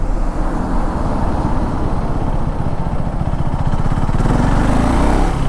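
KTM 390 Enduro R motorcycle in 2nd gear pulling from a low speed of about 10, its engine a loud, steady rumble close to the microphone that grows slightly fuller toward the end, with no voices.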